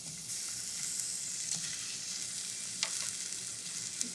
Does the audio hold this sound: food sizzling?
yes